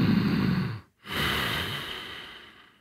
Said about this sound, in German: Einmal mit Ujjayi-Klang, da modifizieren wir die Stimmritze.